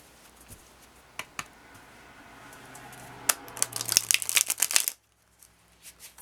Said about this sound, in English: This is a tough deck to shuffle.